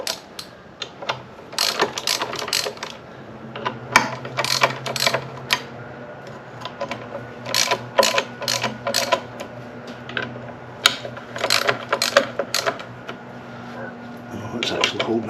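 A ratchet wrench loosens bolts on an Opel engine in repeated bursts of close, crisp clicking strokes separated by short pauses, with a faint low hum underneath.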